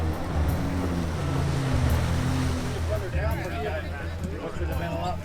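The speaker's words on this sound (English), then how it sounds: "jet skis will drag pilots to simulate being pulled around in the water by an open" Jet ski pulling a pilot through the water during military survival training, a steady engine drone mixed with splashing surf and rushing water, fairly close and continuous, with faint voices underneath.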